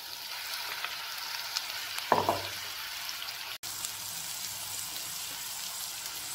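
Boiled potatoes and ground paste fry in a pan for a potato stir fry, a continuous close sizzle with a brief stirring scrape partway through and no talking.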